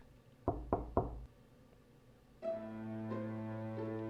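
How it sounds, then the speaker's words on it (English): Three quick knocks on a door from a video game, evenly spaced and sharp, followed after a short pause by a sustained musical chord that swells in and holds. "I knock on the door of the little practice room somewhat hurriedly and head inside."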